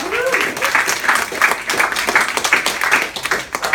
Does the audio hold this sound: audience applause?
yes